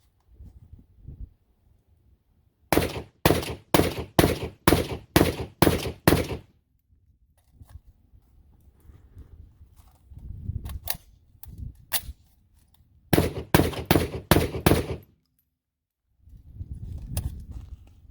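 A UTS-15 shotgun fired outdoors, heard as two strings of about seven and five sharp, loud shots in quick rhythm, with scattered single shots and low handling noise between.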